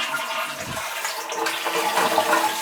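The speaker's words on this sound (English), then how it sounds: "flush this toilet" A toilet flushing up close, a rushing swirl of water that holds steady and grows slightly fuller over a couple of seconds, with no voices.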